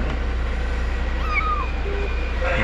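A cat trapped inside a rainwater drain pipe gives faint, thin meows, echoing over steady low background rumble.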